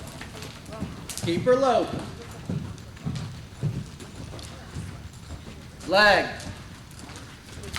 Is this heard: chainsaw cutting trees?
no